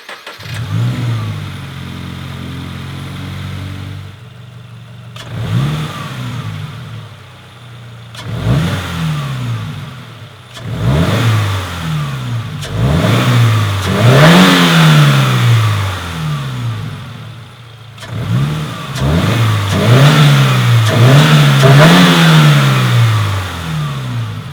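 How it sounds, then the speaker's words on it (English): A car fitted with a Grimmspeed cold air intake starts up, idles, then is revved again and again in rising and falling bursts, the induction roar loud and close with no talking. "let's go ahead and turn the car on and see what kind of induction noises we get"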